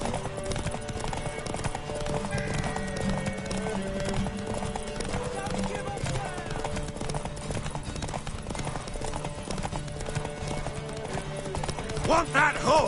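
Horse hooves clip-clop in a steady rhythm while riding in the video game Witcher III on PS5, with character voices talking over the hoofbeats and a few louder thumps near the end.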